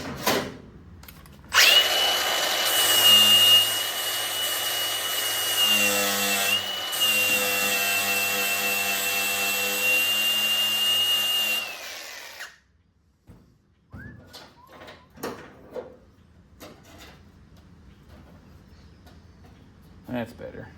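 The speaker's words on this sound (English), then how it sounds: "So we're going to grind that down just a little bit" A grinder whines loudly and continuously for about ten seconds while grinding down metal to fit a lead seam, then cuts off, leaving quieter handling noises and someone talking.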